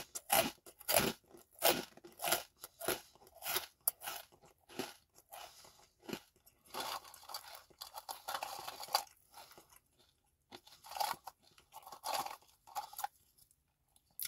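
Specially Selected garlic herb crostini from Aldi crunch loudly and close up in a long series of sharp, dry bites and chews, dense at first and then coming in scattered bursts, with no talk.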